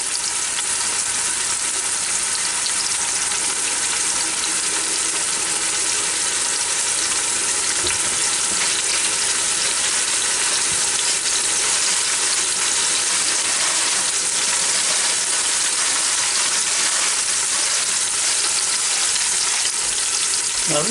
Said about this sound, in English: you hear it start to sizzle.